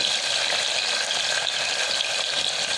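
Cumin seeds, onion, green chilli and carrot pieces fry in hot oil for oats masala khichdi, a dense, even sizzle heard up close with no voices.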